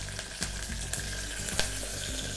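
Curry leaves crackle and sizzle in hot oil with frying onions over lowered flame, a steady close-up frying hiss with scattered sharp pops and a few stirring clinks.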